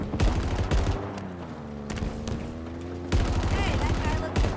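Rapid bursts of gunfire in the video game Halo Infinite, sharp clustered shots in several loud volleys over a droning background, with voices speaking between bursts.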